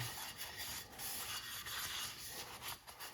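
Cloth with lacquer thinner rubbing metal filings off a knife blade sharpened on a butter dish: soft, close, repeated scrubbing strokes, faint and steady.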